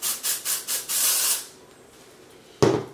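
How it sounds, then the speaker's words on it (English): Dry shampoo from an aerosol can is sprayed onto hair from a few inches away. Four short hissing bursts come in quick succession, then one longer spray, and a brief sharp noise follows after a pause. The sound is close and there is no talking. "Just give it a couple of sprays."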